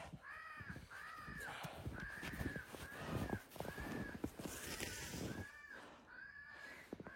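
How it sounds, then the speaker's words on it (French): Several crows caw repeatedly in a steady series of harsh, nasal calls, fairly close and overlapping, over rustling and outdoor background noise during a crow hunt. "Deux corneilles."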